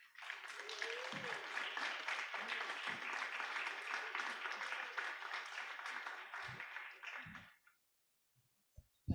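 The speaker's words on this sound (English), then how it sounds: "Give her another round of applause." Audience applause at a live event fills about seven seconds with dense, steady clapping, then fades to silence, broken only by a few faint thumps at the end.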